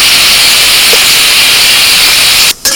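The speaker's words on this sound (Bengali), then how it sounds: "আজকে একটু ডিজাইন করে পটল ভাজছি" Pointed gourd (potol) fries in oil with a loud, continuous close-up sizzle that cuts out briefly near the end.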